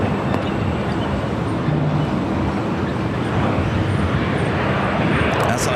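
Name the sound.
jet airliner on the runway at LAX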